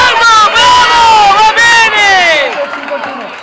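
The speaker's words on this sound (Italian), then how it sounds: "L'applauso del pubblico di Missone per questi atleti che stanno per sopraggiungere." Spectators at the finish of a young athletes' G3 category race in Lissone cheer and shout as the riders arrive, a loud, close crowd of raised voices and yells that fades toward the end.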